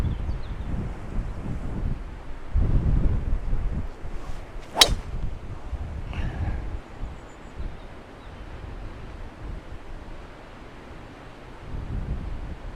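Strong gusting wind on a golf course during a storm, rumbling and buffeting against the microphone in uneven surges, with a brief sharp swish in the middle and no talk.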